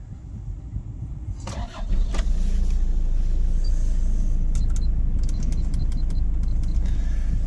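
A 1991 Toyota Townace 4x4 van's 2.2-liter 2CT turbo diesel cranks briefly and catches, then settles into a steady, close, even idle with a few light clicks over the top.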